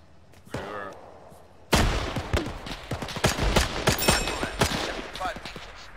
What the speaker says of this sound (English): That APC is shooting at us.